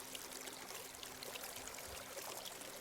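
River water flows in a steady, unbroken broadband rush, with a soft trickling texture and no voices.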